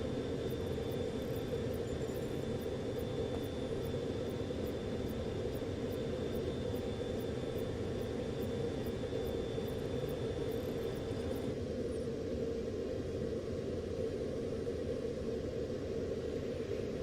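Steady airplane cabin ambience from the Call of Duty Cold War multiplayer game, a constant broadband engine drone and rush that runs through the whole stretch, with no talk and a slight drop in the high hiss near the end.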